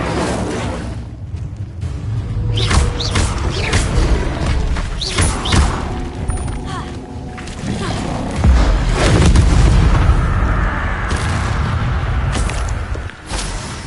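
Incendio fire spells cast repeatedly in Hogwarts Legacy, loud booming whooshes and thuds that recur across a dense, continuous game soundscape, with a voice heard among them.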